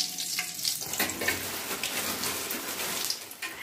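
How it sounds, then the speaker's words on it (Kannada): Mustard seeds and cumin crackle and sizzle in hot oil for a dal tadka, a brief, busy spitting fizz close by with no voices. "ಇವಾಗ ನಾನು ಸ್ವಲ್ಪ ಸಾಸಿವೆ ಜೀರಿಗೆ ಹಾಕ್ಕೊಳ್ತೀನಿ"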